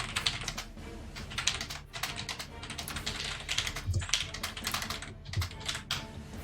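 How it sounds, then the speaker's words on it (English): Fast, furious typing on a computer keyboard, a dense rapid clatter of keystrokes running close and steady throughout, with no voices. "Furious typing."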